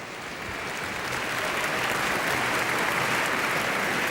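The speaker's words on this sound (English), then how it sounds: "Are we applauding for the commercial?" Studio audience applause at an Australian TV broadcast, a dense wash of clapping that swells in the first second and then holds steady and loud throughout, with no voices over it.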